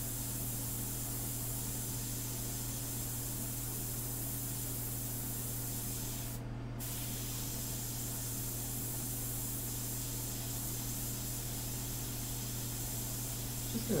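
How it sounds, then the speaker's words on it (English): An airbrush compressor runs steadily close by, a constant low electric hum under a broad airy hiss, with one brief dip partway through and no speech. "I guess the force would be the compressor as we hear it."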